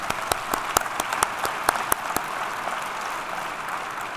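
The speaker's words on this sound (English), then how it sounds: "Let's give her a round of applause." A round of applause from the audience at a police department awards ceremony: scattered sharp claps build into a dense, steady wash that gradually thins out over a few seconds.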